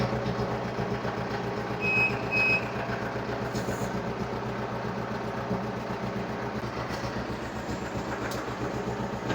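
A JCB backhoe loader's diesel engine runs steadily while the machine is driven, a constant close mechanical drone with a few brief high beeps early on and no talking.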